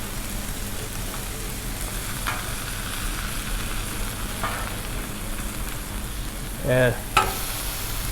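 A chicken smash burger patty sizzles loudly and continuously on a Blackstone griddle, with scattered pops and a sharp clank near the end, while a voice briefly speaks once.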